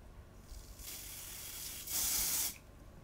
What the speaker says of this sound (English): I'm gonna spray this pink pearl up here.